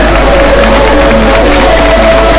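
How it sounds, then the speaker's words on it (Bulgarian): At a youth under-16 basketball game, the crowd in the gym cheers and applauds loudly for the first referee as he is introduced, a brief dense burst of crowd noise. "аплодисменти за Стойчо Митев"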